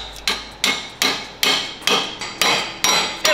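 A hammer taps a part into a Porsche-powered kart: eight sharp, evenly spaced metallic blows, close and clear, with no talking.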